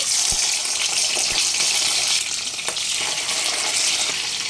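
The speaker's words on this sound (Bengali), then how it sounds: "তেল গরম হয়ে এলে মাছগুলো সব ভেজে নেব" Pomfret fish pieces fry in hot white oil, producing a loud, dense, steady sizzle up close, with a few faint taps of utensils early on.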